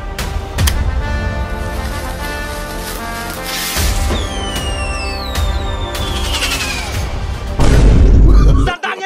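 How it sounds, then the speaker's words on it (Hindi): Diwali firecrackers burst repeatedly over a loud festive background, with sharp cracks and whistling rockets, then a heavy booming blast near the end. "पटाखा फोड़ रहा है, आज दिवाली है ना"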